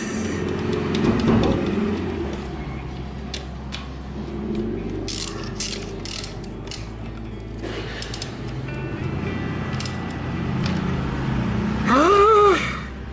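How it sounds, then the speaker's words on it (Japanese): A wrench turns a bolt on a Honda CL50 motorcycle under repair, giving scattered metallic clicks and scrapes over a steady, noisy workshop background with a brief louder squeal near the end. "で、1本ボルトないんでね、こいつだけ締めときます。"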